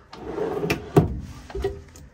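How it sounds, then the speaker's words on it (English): Large drawers in a 2005 Born Free 24RB Class B+ motorhome are pulled open and pushed shut, giving a few close sliding rumbles and sharp wooden thuds in quick succession. "Got two more big drawers here."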